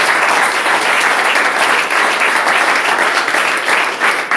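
Steady, dense applause from a church congregation fills the whole stretch at close range and full volume, with no pauses and a faint murmur of voices underneath.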